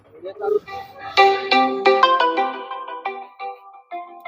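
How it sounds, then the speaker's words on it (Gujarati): A phone ringtone plays a bright tonal melody of repeated stepped notes, fairly loud and close, ringing on for several seconds unanswered without any voices. "ભોણો ભાઈ ફોન ઉપાડતા નહીં"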